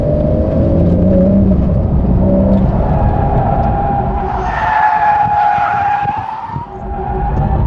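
A Porsche with its stability control in Sport mode slides its rear out without countersteering, tyres skidding loudly over a steady engine drone that shifts in pitch as the car gets away.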